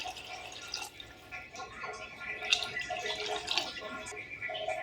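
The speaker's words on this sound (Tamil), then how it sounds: "ஸோ இந்த மாதிரி அரிசியை நல்லா கலந்து விட்டுட்டு நம்ம தண்ணி சேர்த்துக்கலாம்." Water poured into rice in a pot for tomato rice, a steady soft trickle and splash close by, fairly quiet, with faint kitchen noise around it.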